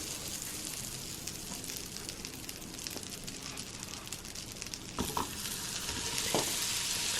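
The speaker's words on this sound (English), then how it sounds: "I want to fry the" Apple slices frying in melted butter on a Dash mini griddle, giving a steady, close sizzle and crackle throughout, with a few clicks and bumps near the end.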